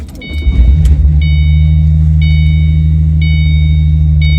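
A 2005-09 Ford Mustang 3V engine cranks and catches within the first second, then settles into a loud, steady idle while a chime beeps repeatedly in the cabin.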